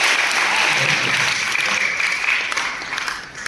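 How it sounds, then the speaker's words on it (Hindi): A hall audience at a school prize-giving ceremony in Ahor breaks into sustained, dense applause, steady and fairly loud throughout, with no voices standing out. "आप लोग सभी ताली बजाइएगा"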